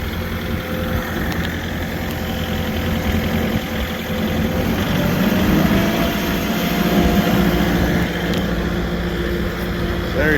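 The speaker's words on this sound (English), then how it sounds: "Let me turn up the RPMs on the tractor." A tractor engine revs up to near PTO speed to run a cheap secondhand hay tedder, giving a loud, steady mechanical drone with a low hum and rattling that swells slightly partway through.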